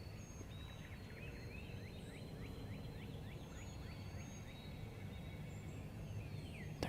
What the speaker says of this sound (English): There's turkeys gobbling everywhere back here behind me.